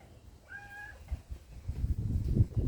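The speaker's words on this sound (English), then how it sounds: "Get off me, cat." A pet cat gives a single drawn-out meow up close, followed by rustling and soft thumps of movement nearby.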